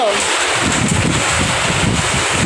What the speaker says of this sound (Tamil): நல்லா பயங்கரமாக ஊற்றுது கேஸ்.